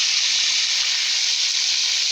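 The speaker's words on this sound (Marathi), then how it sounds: "तेल गरम झालं की यामध्ये मोहरी टाकून घ्यायची आहे मोहरी तडतडली की कोथिंबीर टाकायची" Mustard seeds crackle and sizzle in hot oil over a wood-fired stove, giving a steady, dense hiss with fine popping throughout, close and fairly loud.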